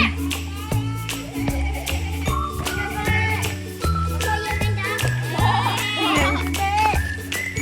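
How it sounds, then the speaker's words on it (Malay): Goats bleat repeatedly nearby, short wavering calls overlapping one another, with faint jingling in the background. "Ada kambing."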